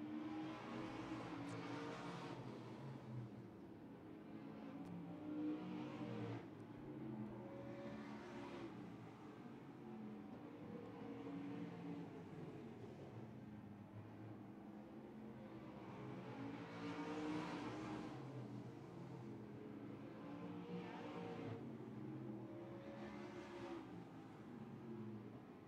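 Race cars roar around a track in a close battle for the lead, engines droning steadily with repeated rising and fading passes, faint and distant throughout with no voices.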